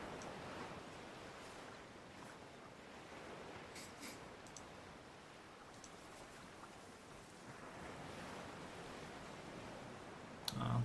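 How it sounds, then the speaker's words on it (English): Faint ocean waves wash steadily in a video game's ambience, a continuous soft surf noise with no talk. "Listening to the waves."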